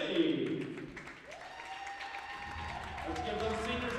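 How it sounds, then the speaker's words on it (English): A gym crowd at a high school basketball game applauds the senior pep band members, with scattered clapping and crowd noise running under a voice and sustained tones. "Let's give those seniors a big round of applause."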